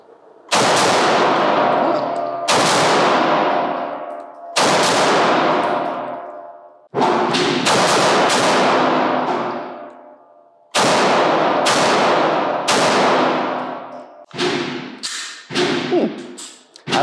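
Springfield Echelon pistol fired outdoors, heard as a series of loud, sharp single shots spaced a second or two apart, each with a long ringing decay, ending in a quicker cluster of shots, with no talking.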